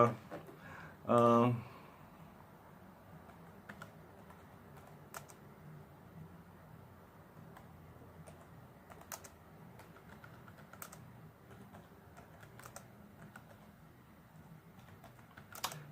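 Typing on a computer keyboard: faint, scattered key clicks continue for a long stretch in a quiet room after a brief loud voice near the start.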